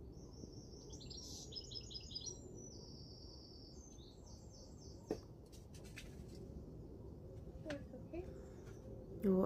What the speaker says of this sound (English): I watch the birds.